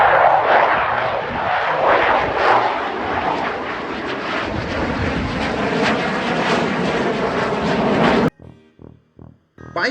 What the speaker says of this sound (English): Fighter jet, fighter jet.